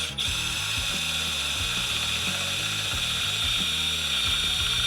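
A drill bit boring into metal runs steadily with a loud, continuous high-pitched whine, while a rapid ratcheting chatter pulses underneath throughout.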